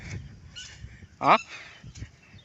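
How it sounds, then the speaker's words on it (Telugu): A bird calls out sharply once, a loud honking cry over faint background noise beside a muddy path through nature. "ఆ పక్షి చూడు ఎట్లా అరుస్తుందా"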